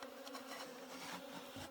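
Native honeybees pour out of a traditional hive, making a dense, continuous buzzing hum, close and steady throughout the short stretch.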